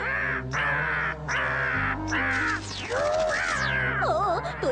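Cartoon crow cawing repeatedly, loud and close, a series of harsh drawn-out caws followed by warbling, wavering calls, alone without talk.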